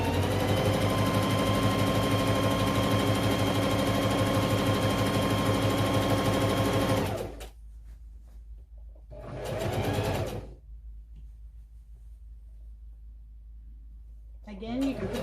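A sewing machine stitches lap blanket fabric, running loud and steady for about seven seconds, then stopping. A short burst of stitching follows near ten seconds, with quiet pauses around it.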